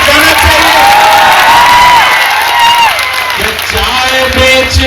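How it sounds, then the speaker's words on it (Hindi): A large political rally crowd erupts in loud cheering, whoops and applause, a dense roar of voices and clapping that swells and stays strong throughout. "तो फिर आपकी तालियों का शोर दिल्ली तक जाना चाहिए।"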